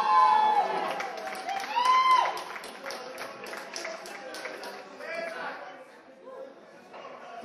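An audience applauds a young guitarist named Jimmy with a burst of clapping and cheering. Crowd chatter, whistles and voices mix in, and the applause fades gradually.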